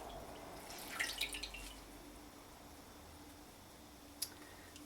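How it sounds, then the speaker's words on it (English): Cotton fabric fresh from an iron dye bath being rinsed in water, with a few soft splashes and drips early on, then a quiet wet lull and one more brief drip near the end. "I'm going to put it in the water to rinse"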